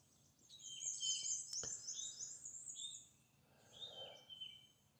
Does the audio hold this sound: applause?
no